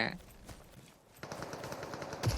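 Gunshots from the battle royale video game Super People: a rapid burst of automatic fire, moderately loud and fairly close, with a few sharper individual shots at the end.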